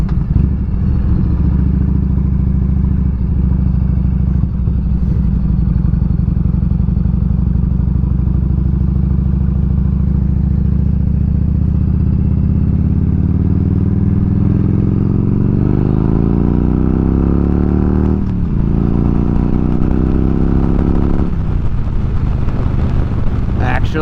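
A Harley-Davidson Evo Road King motorcycle engine rumbles steadily nearby, then revs up and pulls away as it accelerates, with wind buffeting throughout.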